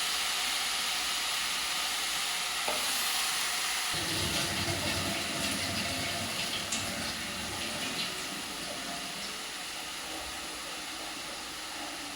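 Cut potatoes for a potato fry hiss in a pan of hot oil with a steady, loud sizzle that deepens partway through as more potatoes go in, and then continues evenly with no voices.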